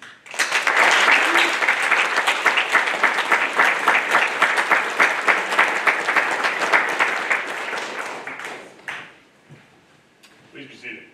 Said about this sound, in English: please join me in a round of applause for the Navy's newest third-class petty officer.